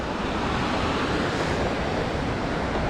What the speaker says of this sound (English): we've been walking parallel to this river here. I think this is the Paradise River.